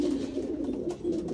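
Imported racing pigeons coo continuously in a breeding loft, a close, steady, low warbling chorus with no talk over it.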